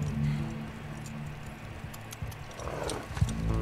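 Horse hooves from The Last of Us Part II video game, a soft rhythmic clip-clop of a ridden horse over a low ambient background, fairly quiet and without speech.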